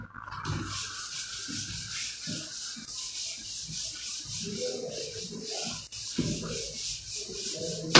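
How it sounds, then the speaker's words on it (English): An eraser rubs across a classroom whiteboard in repeated short strokes, a dry scrubbing swish in irregular bursts, close and fairly quiet over a steady background hiss. "Can I erase the whiteboard?"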